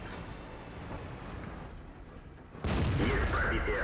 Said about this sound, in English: now the Super Pershing's shooting